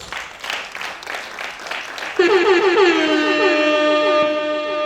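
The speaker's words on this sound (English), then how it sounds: "Please, a warm applause." Brief applause for a guest at an engineering annual lecture, scattered clapping that gives way abruptly to sustained music-like tones filling the rest.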